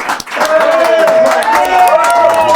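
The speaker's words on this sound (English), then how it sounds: "another round of applause" Applause and crowd noise at the Peace One Day broadcast after a live musical performance, loud and continuous, with a sustained musical tone ringing through it.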